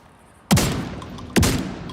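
Two loud gunshots from a weapon fired from cover in The Division 2, about a second apart, each a sharp broadband crack with a decaying tail over quiet game ambience.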